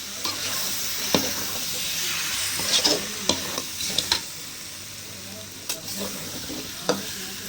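Quail pieces in a gravy masala sizzle and fry in a pan, with steady frying hiss broken by repeated scraping clinks of a spoon stirring, fairly close and without talk.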